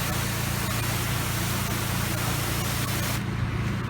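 Pressure washer spraying to rinse a house during a soft wash, a loud continuous hissing spray that holds steady and then drops off sharply near the end.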